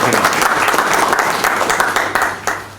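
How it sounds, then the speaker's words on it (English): Audience applause at a Fiji government ceremony honouring the national women's rugby team after the Berlin World Games, a dense, steady clapping from a crowd that tapers off slightly toward the end. "Let's give a round of applause."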